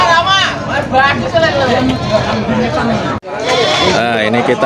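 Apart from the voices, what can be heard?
Javanese goat bleating at livestock market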